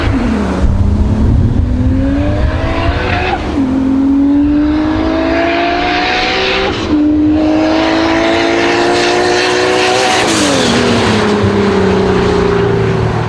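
A thoroughly modified single-turbo Toyota Supra drives past loud and close, its engine revving up through several gear changes with rising pitch sweeps and brief dips between shifts.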